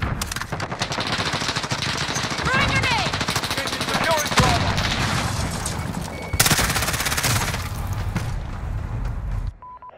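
Rapid automatic gunfire from Call of Duty: Modern Warfare hammers almost continuously for about ten seconds, loud and close, with electronic game beeps mixed in and players talking over it.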